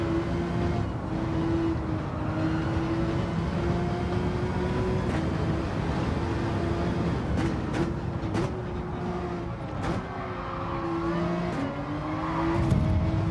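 A McLaren car in Gran Turismo 7 drives with a steady engine drone and shifting pitch, joined by several brief clicks and a swelling rev near the end, with no talking.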